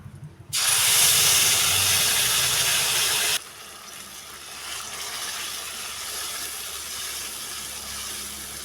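A loud burst of hissing and sizzling as whole cumin seeds and bay leaves hit hot oil, dropping after a few seconds to a steady, quieter crackle.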